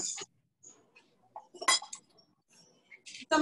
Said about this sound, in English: I'll use my big whisk